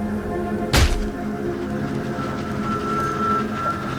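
Train ride in a Roblox video game, a steady mechanical rumble and hum carrying throughout, with one sharp burst of noise early on, at moderate loudness and no talk.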